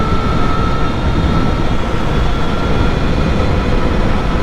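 Steady, loud whine and rumble of an electric bobber motorcycle with a new battery pulling hard at speed, a constant high motor tone over rushing wind noise, with no talking.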